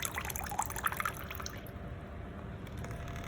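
Water running from a cooling water block in an instrumentation lab setup, a steady broadband flow with dripping and splashing detail near the start that settles into an even, continuous rush.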